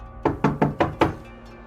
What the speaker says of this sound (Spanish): Grandpa llamó a la puerta.